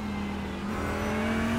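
Race car at the Nürburgring 24 Hours drawing alongside on the inside line, a steady, loud engine drone with a sustained tone that climbs slightly as it closes in, constant throughout with no talk.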